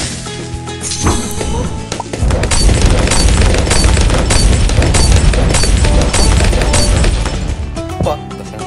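Bomb blasts bursting bloons in the Bloons tower defense game, a loud, dense run of booms and crackling pops lasting several seconds, with a sharp crash near the start.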